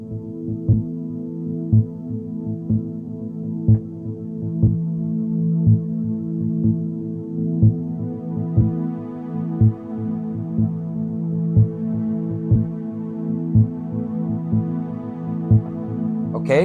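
Layered synth pad loops on an RC505 loopstation hold a low, sustained, humming chord under a soft, regular thumping pulse like a heartbeat, with a brighter layer joining partway through and a sharp burst at the very end.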